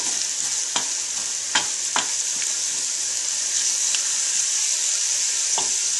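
Garlic fries in oil in a pan while being stirred: a steady, even sizzle with a few sharp clicks and taps of a utensil against the pan, alone and fairly loud.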